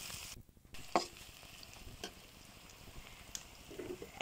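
Chopped onions fry in a pan with garam masala, cardamom and cinnamon, a soft steady sizzle broken by a few clinks and scrapes of stirring, quiet and close.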